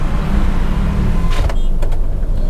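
A 2019 Mitsubishi Xpander Cross power window motor whirs as the glass slides shut, a short electric hum lasting under a second, ending in a soft thump, over a steady background of road noise inside the moving car.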